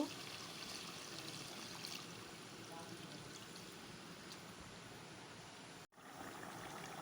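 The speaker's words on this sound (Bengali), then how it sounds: "মাংস কষানো হয়ে গেছে এখন পানি দিয়ে দেব" Water poured into a pot of chicken curry with large potatoes gives a steady, rushing pour that runs evenly for about six seconds, breaks off sharply, then resumes briefly.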